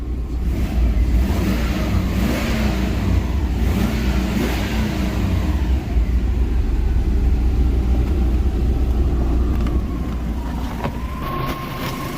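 A Subaru Forester engine with a fuel leak fixed idles steadily with a low continuous rumble, close by, holding an even level throughout with no talking.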